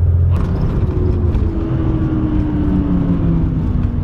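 A Porsche 930 Turbo accelerates from inside the cabin, its engine climbing in a loud, rising rumbling roar with a building whine and no talk over it.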